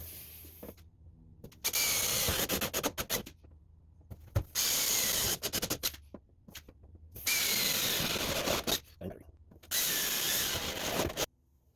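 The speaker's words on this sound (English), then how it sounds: "All right, drill the corners." A power drill whines in several loud bursts of a few seconds each, drilling the corners of a sheet metal patch on a 1974 Chevy K5 Blazer door, separated by short pauses and clunks, close by with no talking.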